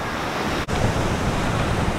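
Atlantic Ocean surf breaking on a Fire Island beach near the lighthouse, a continuous loud roar of waves with wind buffeting the microphone and a brief dropout near the start.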